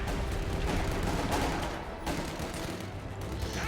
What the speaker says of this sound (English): and there's Nick's mortar